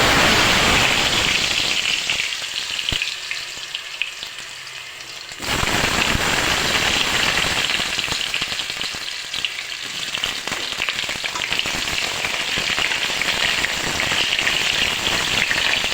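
Potatoes fry in hot mustard oil with cumin, a loud continuous sizzle with crackling that briefly softens and then returns at full strength, with no speech.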